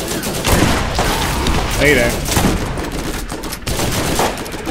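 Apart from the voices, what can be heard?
shotgun fire in the video game Borderlands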